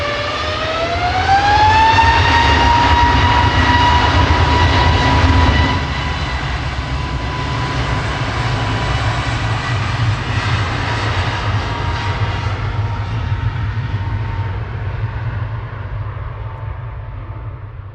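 EasyJet jet airliner departing Manchester Airport for Lanzarote, a loud, steady engine roar with a rising whine that swells early, then settles into a sustained rumble that slowly fades as it climbs away.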